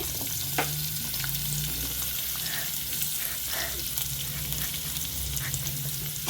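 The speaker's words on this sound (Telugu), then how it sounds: "ఇప్పుడు ఆ నూనెలో వేద్దాము లైట్గా ఫ్రై అవ్వాలి" Cut gooseberry pieces fry in hot oil for a pickle, giving a loud, steady sizzle that lasts throughout, with faint scraping from stirring on top.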